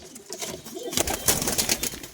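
Pigeons at a pigeon farm give soft cooing calls with a brief flutter of wings, fairly close and steady over a couple of seconds.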